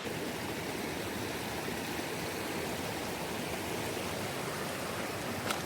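Steady rush of a river flowing through a Welsh forest, a continuous, even broadband wash of water with no talk, heard close and unchanging throughout.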